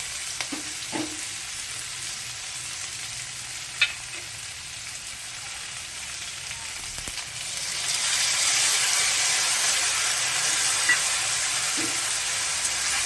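Onions and a spice masala of ginger, cumin, coriander, chili and turmeric powders frying in oil for a Bengali fish curry, a steady hiss that swells into louder sizzling with occasional light clinks of a stirring utensil.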